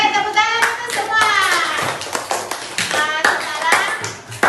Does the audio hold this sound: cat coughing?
no